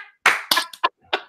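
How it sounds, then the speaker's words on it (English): A few slow, deliberate hand claps, sparse and unevenly spaced, sounding close and dry with silence between each one. "Low clap."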